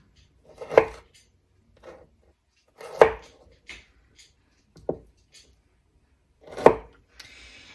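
A kitchen knife chops through food on a cutting board, cutting pieces into quarters for compound butter, with four distinct firm thuds spaced a couple of seconds apart and a few softer taps between, close and otherwise quiet.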